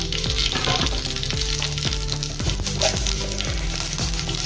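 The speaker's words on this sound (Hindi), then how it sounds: "अभी इसमें हम राई डालेंगे।" Mustard seeds sizzle and crackle in hot oil in a pan, ahead of cooking okra, with a steady loud frying hiss and rapid popping spatters throughout, no voices.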